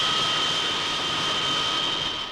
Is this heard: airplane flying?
yes